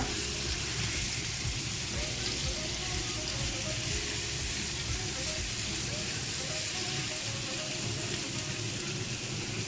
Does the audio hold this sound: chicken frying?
yes